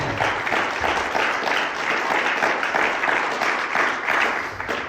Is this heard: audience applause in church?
yes